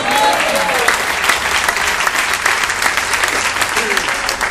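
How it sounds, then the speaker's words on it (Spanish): A church congregation applauds steadily and loudly, a dense wash of clapping that fills the whole stretch, with a voice faintly audible through it at the start. "Denle un aplauso al Rey de Reyes."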